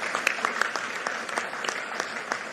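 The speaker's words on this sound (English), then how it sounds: "can you give a big round of applause to the President for joining us today?" Audience applause for the President at a live-streamed event, a brisk round of clapping with distinct individual claps standing out, moderately loud and steady.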